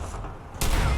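A gunshot in Fallout 4 bursts out suddenly partway through, a loud broadband blast with a dense crackling tail, coming after a stretch of quieter game ambience.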